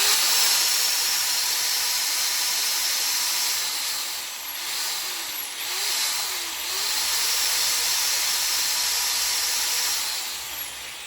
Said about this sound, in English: So if we go to wattage, again with the corded drill, you can see what kind of power we can pull.